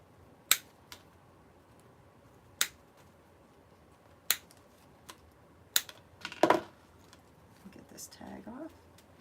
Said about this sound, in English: I'm going to cut all of these individual stem tulips apart